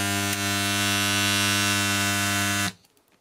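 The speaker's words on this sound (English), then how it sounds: "Now let's try to see the output voltage and how much does it drop during the spot welding." Loud, steady electrical hum from a spot welder built from a microwave oven transformer, holding for over two seconds and then cutting off abruptly into near silence.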